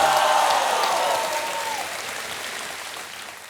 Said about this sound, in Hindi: जरा जोरदार ताली बजा।